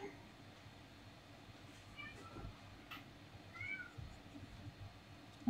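A domestic cat meows a couple of times indoors, faint and somewhat distant over a low room hum.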